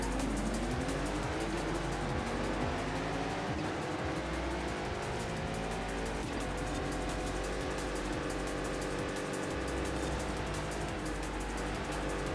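An off-road truck with over 1,000 horsepower roars steadily across dirt in Forza Horizon 5, its engine droning loudly and continuously with tire scrabble and shifting revs throughout.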